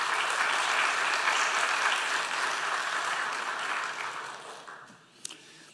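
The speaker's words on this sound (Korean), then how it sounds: "나오실 때 큰 박수로 다시 한번 환영하겠습니다" Congregation applauding in a church Sunday service as a missionary comes to the pulpit, a dense burst of clapping that holds strong, then gradually thins and fades out near the end.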